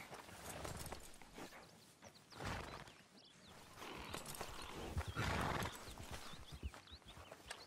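Horse hooves clip-clop in a steady rhythm on a trail in Red Dead Redemption 2, with a loud whinny and snorts breaking through partway, close and fairly prominent with game ambience behind.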